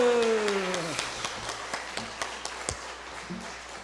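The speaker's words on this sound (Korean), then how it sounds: "우리 함성과 함께 힘차게 박수로 환영을 하겠습니다." A church congregation at Jeongeup Myungsung Church greets the pastor stepping up to preach. A shouted cheer opens, then scattered, sparse hand claps and a few louder single claps follow in a large hall.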